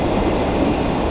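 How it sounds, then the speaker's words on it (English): A train passing on a track above a riverside fishing spot, a loud, continuous rumble that stays steady from start to finish with no talking. "There's a train going by up there"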